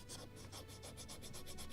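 A rigid metal scalpel handle used as a sanding block on a model gunboat's midship deck, giving steady back-and-forth rubbing strokes, about a dozen in quick even rhythm, close and fairly quiet with no talk.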